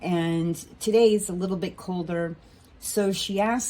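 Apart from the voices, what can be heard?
No distinct noise like a dog, phone or traffic.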